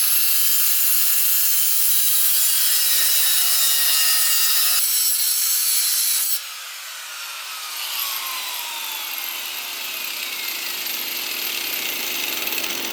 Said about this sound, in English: I'm gonna grind off this metal right here from previous welds